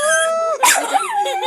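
A puppy gives a drawn-out, howling whine that breaks into a sharp, loud bark, followed by shorter whimpering yips, close to the microphone.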